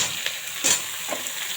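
Mixed vegetables frying in a tempering of tomato, onion and green chili, with a steady sizzle, a few stirring scrapes and a brief louder burst midway, close and alone without voices.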